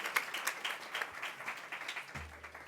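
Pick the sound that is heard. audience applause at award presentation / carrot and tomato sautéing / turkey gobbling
audience applause at award presentation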